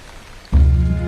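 Rain in a mountain forest in China bursts in abruptly about halfway through, becoming a loud, dense, continuous wash that holds steady to the end after a quieter start.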